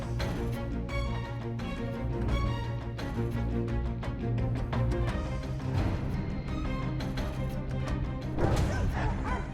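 A domestic dog under attack by a leopard barks and whimpers in repeated bursts, mixed into a loud, dense layer of other sound that runs continuously throughout.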